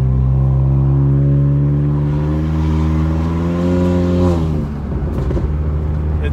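A 2019–2020 Honda Accord Sport 1.5T with catted downpipe, front pipe, resonator delete and muffler delete revs loudly and close, the drone climbing steadily before dropping off into crackling pops.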